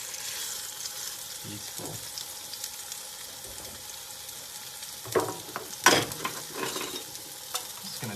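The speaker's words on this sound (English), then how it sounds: "So, scallop in a nice hot pan." A scallop sears in a hot pan with a quiet, constant sizzle, a few louder spatters and clatters near the end, and a short spoken remark.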